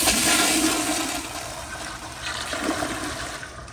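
A 2009 Gerber Ultraflush rear-outlet ADA toilet flushes with a loud, close rush of water that gradually eases off, then surges briefly again before tapering.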